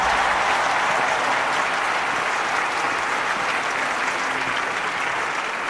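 A stadium crowd in the London 2012 video game applauds steadily and loudly, a dense wash of clapping that holds without a break throughout.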